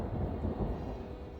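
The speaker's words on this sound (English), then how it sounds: "That's the magpie thunder right there." Low, rolling thunder rumbles steadily in the video game Hytale, a faint, distant storm murmur with no voices over it.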